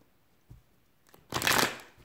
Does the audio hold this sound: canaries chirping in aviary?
no